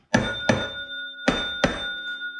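Bell on a Booster moped rung four times in two quick pairs, each strike bright and ringing with a sustained metallic tone that decays between hits, close and loud with no talking.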